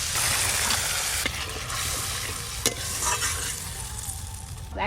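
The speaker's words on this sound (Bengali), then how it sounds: "এবার একটু মশলা খুব ভালো করে কষে নেব" Spice paste of chilli paste and turmeric being stirred and fried in a pan for fish kalia, a steady close sizzle with repeated scraping strokes, no voices.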